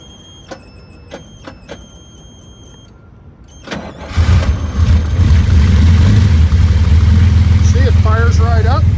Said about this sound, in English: We'll let the people see how one of these things starts and sounds. We'll fire it up with the engine open.